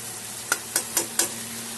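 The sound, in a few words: joha rice added to fried spice paste, stirring in pan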